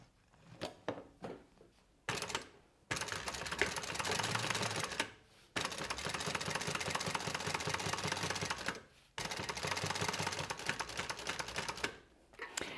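A sewing machine stitches in long steady bursts, rapid needle rattle running for several seconds at a time, separated by brief pauses, with a few short taps at the start.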